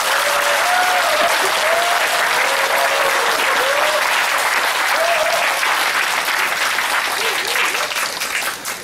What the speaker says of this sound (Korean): 모두 박수 주십시오.